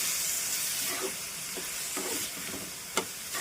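Grated paneer tossed into a hot pan of cooked onion and stirred for paneer bhurji, giving a steady close sizzle broken by soft spoon scrapes and one sharp clack near the end.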